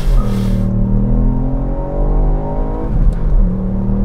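Ford Fiesta ST three-cylinder hatchback launching on launch control at full throttle, engine loud and close with harmonics rising steadily, a brief dip and shift near the three-second mark, then pulling hard again.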